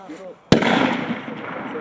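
A single sharp rifle shot from a Slovenian infantry soldier cracks close and loud, followed by a rolling outdoor echo and reverberation that fills the rest of the moment.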